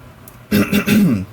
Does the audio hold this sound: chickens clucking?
no